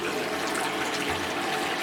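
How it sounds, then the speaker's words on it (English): Cold water pours steadily from a tap into a basin, a constant rushing splash at moderate level with no break and no one talking. "I'm going to add some water."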